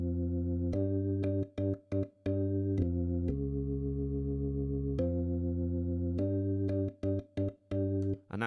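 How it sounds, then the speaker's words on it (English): Jazz fusion organ chords from Logic sound as a run of sustained, harmonically rich chords, some held long and others cut into short stabs, clean and upfront with no voices. "jazz fusion organ sound, which you can get on Logic"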